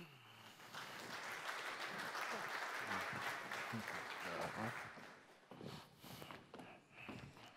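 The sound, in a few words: applause from conference audience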